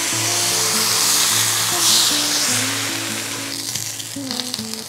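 Water poured into a hot pan of crispy rice hisses and sizzles loudly, a bright frying crackle over a wavering tonal hum that fades slightly toward the end.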